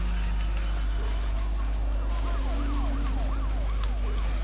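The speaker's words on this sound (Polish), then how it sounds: "Proszę Państwa, za nami jedzie policja." A wailing police siren in the video game Need for Speed: The Run rises and falls repeatedly over a loud, steady engine drone, sounding slightly distant.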